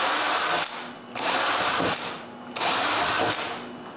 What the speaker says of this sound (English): So I drill a small hole at each corner of my shape.